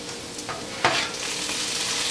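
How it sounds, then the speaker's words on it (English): Potato hash frying in a pan and stirred with a big flat plastic spatula, a steady loud sizzle broken by a couple of quick scraping strokes, up close with no speech. "Okay, so it's time to start stirring the hash."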